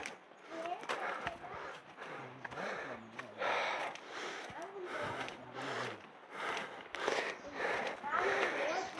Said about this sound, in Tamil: மூச்சு வாங்குறது நல்லா தெரியுதா? கேட்குமே நல்லா சவுண்டு.